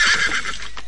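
A horse gives a loud, close neigh, a short bright whinny that fades within a second. A faint thump of hooves sounds near the end.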